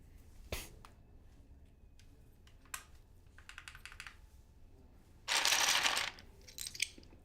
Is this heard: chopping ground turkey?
no